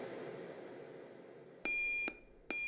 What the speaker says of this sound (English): She slowly awoke to the sound of her loud, obnoxious alarm